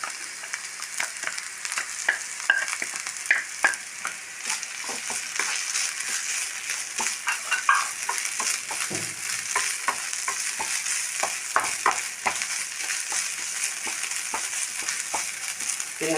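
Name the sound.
sliced onion and grated coconut frying in a pan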